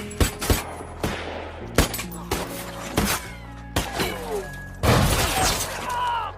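Gunfire in a tense film scene rings out as a string of sharp, loud shots with short echoing tails, spaced irregularly, and a louder burst with ringing debris near the end.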